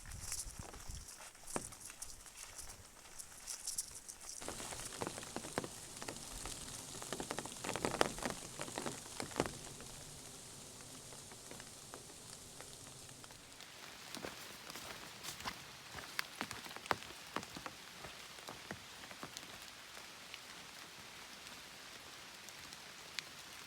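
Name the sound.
rain falling on a foggy mountain trail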